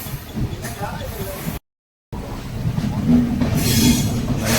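A train running along the Nagercoil railway in Tamil Nadu en route to Kanyakumari, a steady loud rumble of wheels and carriage with hiss, briefly cut off by a gap of silence, then resuming with faint squealing tones.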